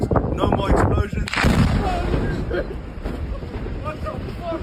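A heavy explosion booms in Khan Yunis, a loud rumbling blast with a rolling tail under wind noise, while a voice talks over it.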